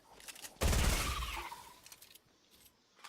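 A burst of video game gunfire during a snow storm match crackles out as one loud, fast volley, followed by fainter scattered shots and clatter.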